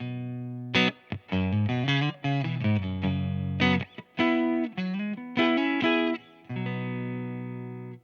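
A clean electric guitar plays a melodic run of single notes and chords through an amp, with short pauses and a final sustained ringing chord.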